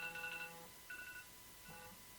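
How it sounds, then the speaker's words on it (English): A phone alarm going off as a reminder to take an anti-swelling pill: a short melodic electronic tone pattern, faint and fairly distant, playing in two or three brief bursts with gaps between them. "That is my alarm to take my pill"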